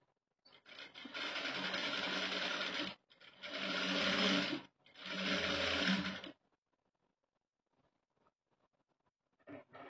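A sewing machine stitches a blouse in three loud, steady runs of a few seconds each, separated by short pauses, with another run starting near the end. No one talks.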